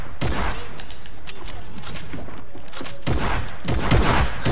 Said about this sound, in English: He was literally one shot with a pump.